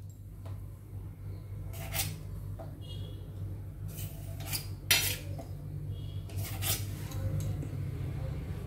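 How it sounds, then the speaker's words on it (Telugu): A knife trims the crusts off slices of milk bread, giving faint scraping and light taps against a plate, several short strokes repeating over a low steady background hum. "ఇప్పుడు ఈ బ్రెడ్ ముక్కని ఒక్కొక్కటి తీసుకొని ఈ ఎడ్జెస్ని కట్ చేసేసుకోవాలి."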